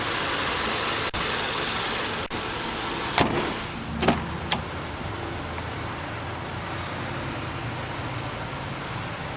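A 2010 Hyundai Elantra Touring SE engine runs at a steady, quiet idle, close by and alone, with a few brief clicks and knocks over the even hum.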